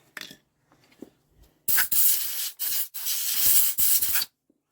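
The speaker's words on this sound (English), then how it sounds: "This may seem brutal getting in there with a screwdriver, but to be honest, there ain't much other way" Screwdriver scraping hard deposits inside a seized cylinder of an old Douglas motorcycle engine with the heads off: a few faint taps, then several loud, close, rough scraping strokes in bursts with brief pauses, no talk.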